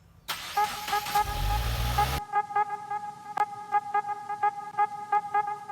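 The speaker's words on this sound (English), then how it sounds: "we're gonna go ahead and pull the WRX out closer to the garage over there" A 2017 Subaru WRX is pulled out toward a garage; a short burst of engine and rolling noise cuts off abruptly, followed by a series of rhythmic electronic chimes or beeps, close by and without talk.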